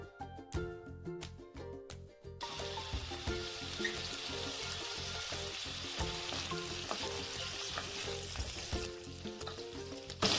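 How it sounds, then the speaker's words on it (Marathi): Potatoes shallow-fry in homemade ghee with a continuous, fairly loud crackling sizzle, after a few sharp utensil clatters at the start, with no talking. "आता यामध्ये आपण बटाटे थोडेसे शालो फ्राय करून घेणार आहोत."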